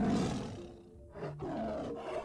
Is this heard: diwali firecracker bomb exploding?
no